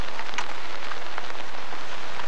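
Night rain pours steadily onto a river, a dense, even hiss of drops with scattered brighter splashes, close and continuous with no voices.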